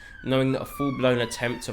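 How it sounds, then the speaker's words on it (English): A siren wails steadily in the background beneath continuous close talking, faint and drawn out through the whole stretch. "apologies for the sirens"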